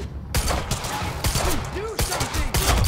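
Rapid bursts of gunfire in the video game Quantum Break, loud and close, repeated volleys with short gaps, with a voice talking over the shooting.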